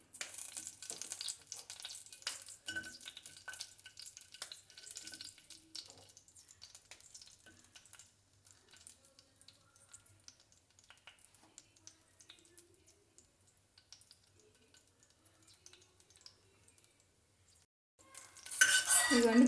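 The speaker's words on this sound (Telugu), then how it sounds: "చిల్లీస్ ఫ్రై చేసుకుంటున్నాను" Chillies frying in a little oil for a dal chutney, heard as a faint crackling sizzle with scattered clinks and scrapes of a utensil against the pan, close by, ending in a louder burst of clatter.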